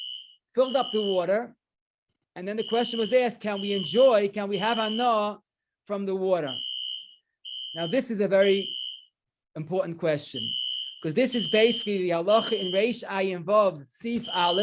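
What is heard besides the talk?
fire alarm ringing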